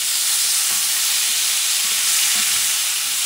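Rice with pork shoulder and peas stirred in a pan over heat a few notches above low, giving a soft steady sizzle with faint scraping thumps from the utensil, close and alone with no talk.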